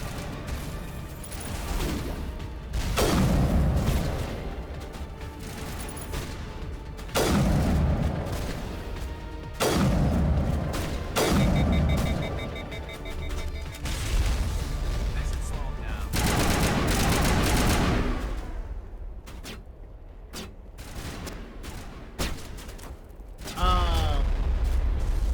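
Sniper fire in Mass Effect Legendary Edition: several sharp, loud shots spaced a few seconds apart, with booming impacts over a steady battle rumble and occasional talk.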